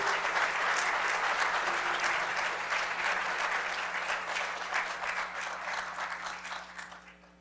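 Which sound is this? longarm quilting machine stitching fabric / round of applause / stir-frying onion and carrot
round of applause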